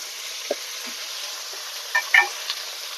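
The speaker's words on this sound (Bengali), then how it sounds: "এবার এগুলোকে ভালো করে নেড়ে চেড়ে নেবো ভেন্ডিটাকে এবার কিছুক্ষণ ভাজতে থাকবো" Cut okra (bhindi) fries in a pan, a quiet steady sizzle broken by a few scraping stirs and small clinks, close and brief, with no voices.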